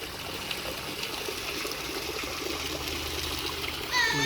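Cold spring water trickles from the mouth of a fish carved in stone, a soft steady splashing and dribbling outdoors at low level, with a brief brighter sound at the very end.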